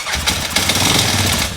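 An old 4x4 ATV engine runs rough on fuel poured directly into the carburetor, a loud, close, uneven sputtering chug with a ragged pulsing rhythm.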